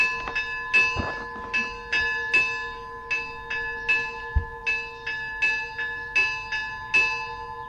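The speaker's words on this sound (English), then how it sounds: "there we go. We hear the bells." Monastery bells ring in the morning in a steady, repeating sequence of clear, resonant strikes, each chime decaying before the next, loud and close.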